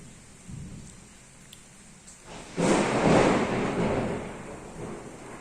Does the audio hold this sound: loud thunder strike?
yes